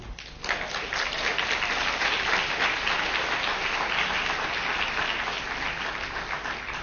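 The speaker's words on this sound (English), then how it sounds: "I would like a hand of applause for Sander." Conference audience applauding together, a dense sustained wash of clapping that holds steady for several seconds after a brief announcement.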